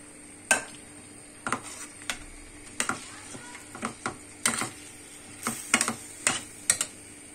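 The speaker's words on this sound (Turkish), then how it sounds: "Pirinci kavuracağım." A spoon scrapes and taps irregularly against a pot as rice is sautéed in a little olive oil, with a faint sizzle underneath; sharp clinks come every second or so.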